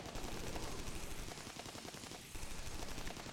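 Dense, continuous gunfire from the strategy game Anomaly: Warzone Earth, with rapid overlapping shots that hold at a steady loud level throughout and dip only briefly.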